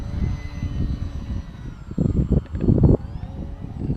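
A small FT Simple Cub RC model airplane flies overhead, its electric motor giving a steady, thin whine over wind rumble, with a few louder gusty bursts near the end as it fights for control.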